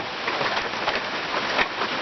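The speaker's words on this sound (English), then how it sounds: "It's raining pretty good." Rain drums steadily on an RV roof, a dense, even patter of drops throughout with occasional slightly heavier splashes.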